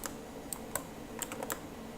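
Several isolated computer keyboard key presses, sharp separate clicks spaced irregularly at close range over a steady low hum, as someone hunts for the pause key while working in Unity.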